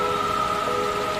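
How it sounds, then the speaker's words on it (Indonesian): Steady nighttime rain falls beside an old empty roadside stall, a dense, even hiss with a faint sustained tonal hum running underneath and no voices. "Hanya suara hujan yang memecah malam"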